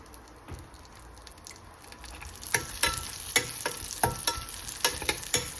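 Payasa ingredients frying in a pan, a soft sizzle building into a run of sharp, fairly regular crackles and pops close by, without talk.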